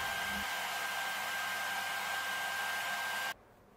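A hair dryer held floating in mid-air blows hair dry during a winter morning routine, giving a loud, steady rushing whirr that runs continuously and then cuts off abruptly near the end.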